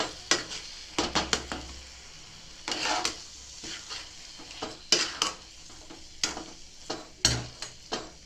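A spoon stirs spices together in a pan for a rustic brinjal bharta, producing a run of sharp scrapes and clinks against the metal over a low sizzle, close and alone.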